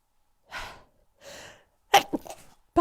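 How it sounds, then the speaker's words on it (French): Two quick sneezes in a row from pollen allergy, close and fairly loud, followed by a sharp sniff and some rustling movement. "Je vais encore éternuer."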